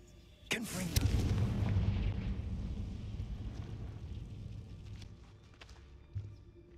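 A Confringo blasting spell in Hogwarts Legacy bursts with a sharp crack and a loud rumbling explosion that slowly fades, followed by a lighter impact thump near the end.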